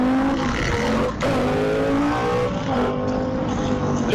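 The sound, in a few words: motorbike accelerating into a small wheelie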